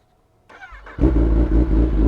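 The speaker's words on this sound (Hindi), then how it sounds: "तो चलो ऑन करते हैं बाइक को।" A 2020 Kawasaki Ninja ZX10R fitted with a CR Racefit exhaust cranks briefly and then fires up into a loud, deep, steady idle close by.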